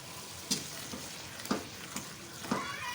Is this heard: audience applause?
no